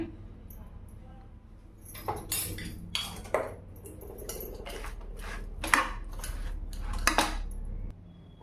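Spoon clinks and scrapes against a bowl while mashed banana is mixed, a run of close, repeated metallic taps at an uneven rhythm over low background hum.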